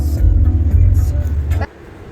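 Road traffic rumbles heavily in a busy, congested street, a dense low engine drone with passing-vehicle swells that drops abruptly near the end.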